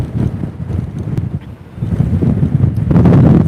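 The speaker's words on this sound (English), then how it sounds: "because it's so windy" Strong wind buffets the microphone on the open deck of the cruise ship Enchanted Princess during sailaway from Halifax, Nova Scotia, a steady low roar that swells louder toward the end, with no talking.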